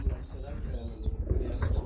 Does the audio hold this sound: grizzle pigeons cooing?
yes